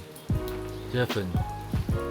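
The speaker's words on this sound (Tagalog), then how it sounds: "Ah, Baguio vibes na ulan." Rain falls steadily in Taiwan, a soft continuous wash beneath voices talking close by.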